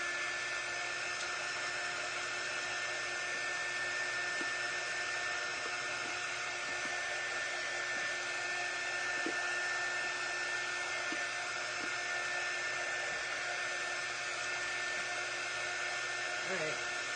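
A hair dryer runs steadily and close by throughout, drying a handmade craft project with a continuous even whir and no pauses.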